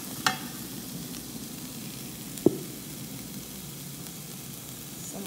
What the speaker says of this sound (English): Let that fry